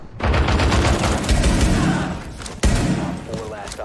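Rapid, dense gunfire in the Rainbow Six Siege video game, heard as a loud, sustained burst with a sharp shot near the end, mixed with players' voices.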